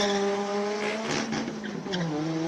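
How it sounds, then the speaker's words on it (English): A turbocharged four-cylinder rear-wheel-drive Ford Zaxpeed replica Escort Mark II race car roars close by as it climbs a hill-climb course, engine note rising and shifting continuously with a brief tire squeal. "Turbocharged 4-cylinder rear-wheel drive Mark II Escort up the hill."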